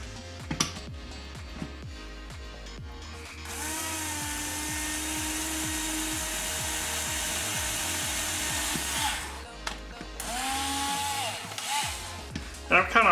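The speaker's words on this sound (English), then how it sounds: "So let's go ahead and drill this through." A power drill bores through a nylon plastic piece for a mini quadcopter frame build, whining steadily in two long bursts with short starts and stops and light handling clicks between them.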